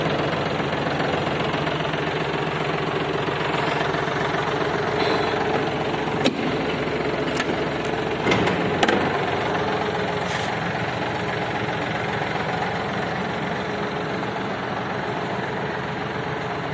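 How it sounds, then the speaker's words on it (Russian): Yanmar AF-24 Japanese tractor engine idling steadily, a low rumbling chug that stays even and constant, with a few faint clicks and knocks over the top and nobody talking. "Чтобы нам продемонстрировать вам полностью работу трактора"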